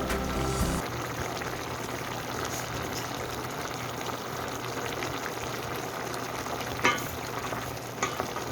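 Mutton with tomatoes and onions sizzles and fries in a pan on full flame, a constant crackling hiss with scraping stirs and occasional sharp clinks of the spoon against the pan.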